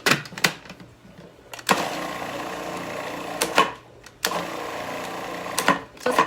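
A food processor pulses garlic with organic almond butter in short whirring bursts separated by brief pauses, with small clicks between pulses.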